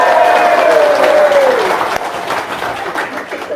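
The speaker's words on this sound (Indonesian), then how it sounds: "tepuk tangan dong, luar biasa" An audience applauds loudly and close, a dense wash of clapping that starts strong, carries a brief sustained microphone tone early on, then thins and fades slightly toward the end.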